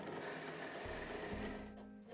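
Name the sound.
drill press drilling holes in wooden stair treads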